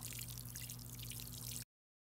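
Water pours over potting soil sown with bell pepper seeds, a steady soft patter and trickle close by that stops abruptly, with a low hum underneath.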